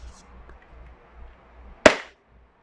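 A single sharp crack from a WE Glock 17 airsoft gas blowback pistol running low on gas, loud and close, following a stretch of quiet background murmur.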